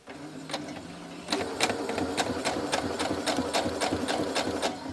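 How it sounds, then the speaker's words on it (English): A sewing machine stitches a quarter-inch seam on a quilt block, running close and steady with a rapid mechanical whir and regular needle clicks that speed up partway through, with no talking. "all I'm doing is following the line, and it's stitching at exactly 1/4 of an inch from it."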